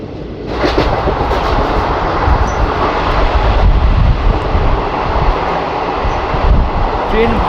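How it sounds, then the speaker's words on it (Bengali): Malda-Howrah Intercity Express train via Azimganj running fast through Chinsurah station, a loud, steady roar of rushing wheels and rumble heard close from on board, with wind noise throughout. "ভালো স্পিড নিয়ে নিয়েছে চুচুড়া স্টেশন স্কিপ করছে"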